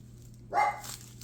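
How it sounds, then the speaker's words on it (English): A dog gives a single short bark at moderate distance, with a faint yip right at the end, over a quiet indoor background. "my dogs are finally done barking"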